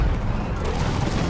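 A brief, dense roar of musket volleys in a video game battle, with loud, overlapping crackling shots and a low rumbling boom filling the moment, and a voice faintly mixed underneath.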